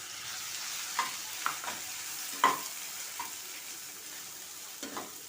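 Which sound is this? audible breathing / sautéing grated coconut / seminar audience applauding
sautéing grated coconut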